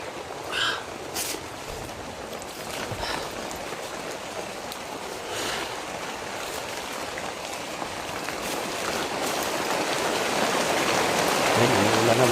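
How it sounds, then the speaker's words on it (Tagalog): Steady rain falls outdoors as a dense broadband hiss with scattered drops, growing gradually louder toward the end. "Yan, umuulan na mga tol."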